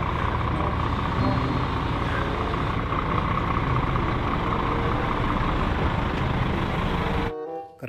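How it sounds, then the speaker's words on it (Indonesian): Toy big container truck rolling along with a steady, continuous engine-like drone that fills the clip at moderate loudness, cutting off abruptly near the end. "Mobil truk kontainer besar,"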